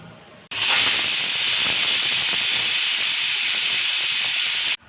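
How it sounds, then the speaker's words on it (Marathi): A pressure cooker lets off a loud, sustained steam hiss on a lit gas stove. The whistle starts abruptly and holds steady for about four seconds before cutting off sharply, with no talking over it. "आता आपण कुकरच्या तीन शिट्ट्या काढणार आहोत"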